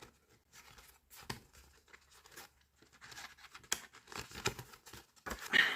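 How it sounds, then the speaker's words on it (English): Paper card insert pushed into slots of a Cricut-cut card, a few close, quiet papery scrapes, crinkles and taps with pauses between. "once it's cut you insert the other bit"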